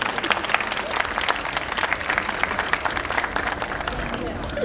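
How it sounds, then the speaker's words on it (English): An audience at a spring festival performance applauds the young performers with dense, continuous clapping and some crowd noise, steady and fairly close throughout. "Let's have a huge round of applause for them."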